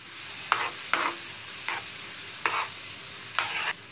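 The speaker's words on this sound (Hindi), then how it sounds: "इसे हम भून लेंगे हल्का हल्का" Mustard oil and spices being lightly roasted in a pan for mango pickle, a constant soft sizzle broken by five sharp scraping strokes of a stirring spoon, close up and without speech.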